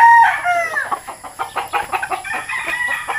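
Roosters crow and hens cluck nearby on a backyard farm with four-month-old birds, a loud crow at the start followed by rapid, close clucking and squawks.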